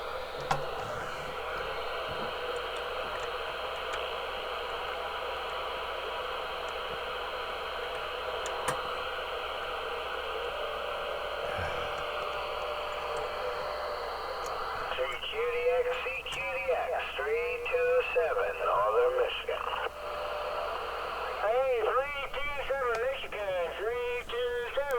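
A Cobra 146GTL CB radio, freshly recapped, receives a steady hiss of static with faint distant voices, then warbling sideband chatter swells in over the noise toward the end.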